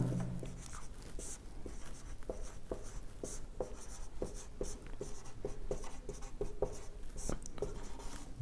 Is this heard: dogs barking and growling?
no